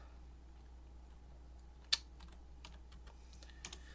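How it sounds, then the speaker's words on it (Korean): Quiet, scattered typing on a computer keyboard: a few soft key clicks with one sharper tap, sparse and irregular in a hushed room. "아이 타이핑 정말 못한다"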